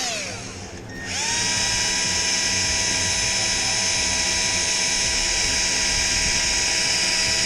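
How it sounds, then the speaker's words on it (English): Brass wire brush spun by a drill scrubbing gasket material off an LQ4 engine part for a 1964 Nova swap, a loud, steady high-pitched whine that spins up after a second and holds close by. "to get off a lot of the gasket material, I'm going to use a brass wire brush"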